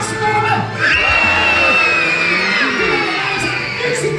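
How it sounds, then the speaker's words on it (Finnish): Men and boys in a concert audience yell together on cue, a loud, deep, sustained crowd shout with whoops mixed in, filling the room for about four seconds. "Kokeillaan sillä lailla, että miehet ja pojat huutaa rauhassa."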